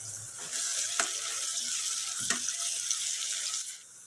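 Onions sautéing in oil in a pan for a mutton kulambu, a steady close hiss and sizzle throughout with a couple of brief clinks from stirring, no voices.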